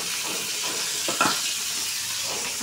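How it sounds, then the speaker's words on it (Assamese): Fish rubbed with turmeric and salt frying in a pan, a steady close sizzle with a brief louder spatter partway through, no voices. "এয়া হালধি নিমখ দি পূৰা সানি আৰু একদম মাছ ফ্ৰাই কৰিবলৈ পাতি দিলোঁ"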